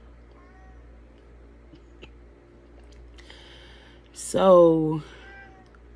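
A talkative pet cat gives one loud, close meow near the end, with quiet room noise and a brief spoken word before it.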